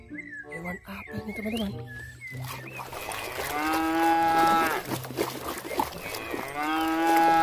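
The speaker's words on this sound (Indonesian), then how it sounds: "Ini hewan sapi." A cow moos loudly and close in two long, drawn-out calls during the second half, following a child-like voice speaking over toy-like squeaks at the start.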